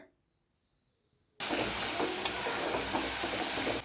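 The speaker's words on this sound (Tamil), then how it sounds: "வெங்காயமும் பூண்டும் நல்லா வதங்கி வரட்டும்" Onions and garlic sautéing in a pan for a Tamil tamarind curry with neem flowers, a loud sizzle with stirring scrapes that bursts in after a second of near silence and continues steadily.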